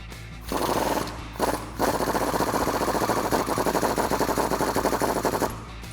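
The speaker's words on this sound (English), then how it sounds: "I'm going to use an 18mm socket and a 15mm wrench to remove that bottom bolt." A rapid-fire impact wrench with an 18mm socket loosens the bottom control arm bolt on a Jeep Wrangler TJ, rattling loudly and close in a short burst, then a longer sustained run.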